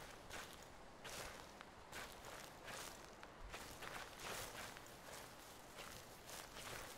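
Footsteps crunching through weeds and brush in the Slender: The Arrival video game, a steady walking rhythm of rustling steps over a dense hiss of ambient noise.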